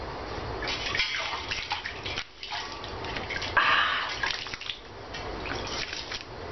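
Bucket of ice water dumped over someone for the ALS Ice Bucket Challenge, a rushing splash and pour with dripping, surging midway and trailing off, with faint voices behind.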